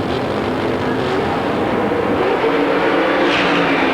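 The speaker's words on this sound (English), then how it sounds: "With a big cloud of exhaust, Hahn beaten off the line and beaten down the drag strip by Billis." Nitrous oxide-injected 632 cubic inch Chevrolet Camaro launching off the line at a drag strip during an IHRA national event, a loud, steady engine roar sustained throughout without a break.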